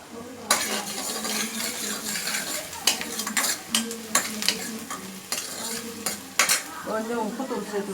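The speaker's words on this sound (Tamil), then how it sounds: "வெங்காயம் வதங்க விடுறோம்." Onions sizzle in sesame oil in a pan while a metal spoon stirs them, with repeated scraping clinks against the pan over a steady frying hiss, close and moderately quiet.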